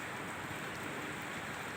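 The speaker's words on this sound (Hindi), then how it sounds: "इतनी बारिश हो रही है।" Steady, dense rain falling continuously in Amritsar, a broad hiss with fine patter of drops on surfaces, fairly loud and close, no voices.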